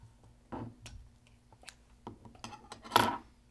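Scissors snipping thin coil wire for a rebuildable atomizer, a few sharp metallic clicks and snaps at irregular intervals, close and quiet, ending in a brighter clink, no speech.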